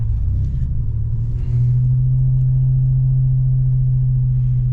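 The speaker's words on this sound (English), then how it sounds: "who really wants to get in the way of turbo whooshy noises?" A 1986 Buick Regal T-Type turbo engine drones while driving, a deep rumble rising into a steady, loud tone that holds for several seconds, heard from inside the car without talk.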